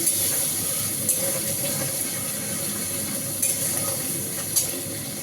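Ginger paste frying in a pan gives a steady close sizzle with faint stirring scrapes and a few brief clicks of utensil contact, no voices.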